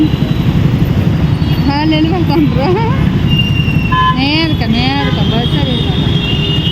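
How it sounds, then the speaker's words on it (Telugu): Busy road traffic drones steadily while someone speaks over it, with several vehicle horns honking and beeping at intervals. "ఈ ట్రాఫిక్ చూపిస్తాను ఎంత సౌండ్ వస్తుందో"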